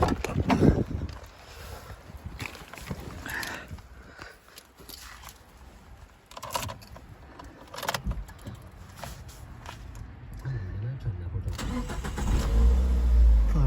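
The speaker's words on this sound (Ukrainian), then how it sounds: "Зараз заведемо двигуна, бачимо як заводиться, як працює." A 2009 Nissan Qashqai 1.6 petrol engine cranks and catches, then runs with a low rumble, joined by clicks and handling noises while a person talks nearby.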